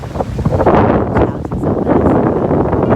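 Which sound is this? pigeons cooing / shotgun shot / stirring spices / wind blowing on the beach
wind blowing on the beach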